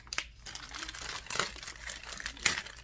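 Plastic cosmetics packaging crinkles and rustles up close as it is opened, with a few sharper crackles standing out from a steady soft crumpling.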